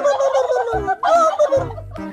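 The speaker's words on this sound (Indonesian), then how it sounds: "ternyata di sini ada burung kalkun" A turkey gobbles in several rapid, rattling bursts with short pauses between them, close and loud, with no one talking over it.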